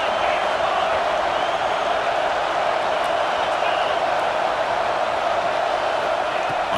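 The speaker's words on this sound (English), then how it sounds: "this home crowd is fired up and ready to make a difference" A home crowd at a Georgia vs Texas college football game roars steadily and loudly throughout, a constant wash of stadium cheering with no clear breaks.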